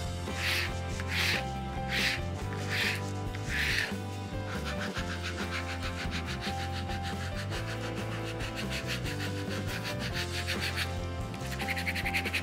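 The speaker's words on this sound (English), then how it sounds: "Then go over it again with your squeegee." A squeegee rubs repeatedly over stencil transfer tape on a chalkboard craft stencil, giving steady scraping strokes close up under a constant musical hum, with a few sharper rasping swipes early on.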